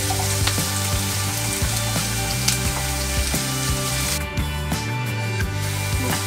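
Chopped onion frying for sisig in a hot pan gives a loud, steady sizzle with close stirring scrapes and clatter throughout.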